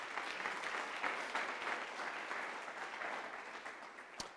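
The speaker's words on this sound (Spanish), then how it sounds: "Dale un aplauso a Jesús" Congregation applauding during a Spanish-language church sermon: steady, moderately faint clapping from many hands, continuous throughout and ending with a brief sharp knock.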